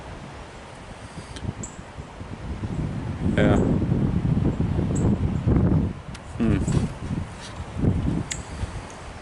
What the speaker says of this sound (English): It's windy, but it's still a beautiful day after the storm.